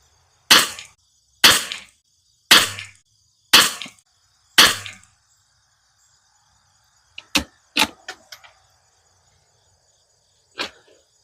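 Five evenly spaced sharp shots from a heavy-barrel rifle fitted with a tuner crack out about a second apart, followed after a pause by a few quieter, fainter bangs and clicks.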